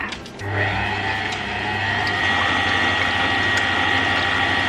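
An electric hand mixer beats egg yolks in a small container for a chile relleno casserole, giving a steady, loud motorized whir with a low hum that starts abruptly and runs continuously without pause.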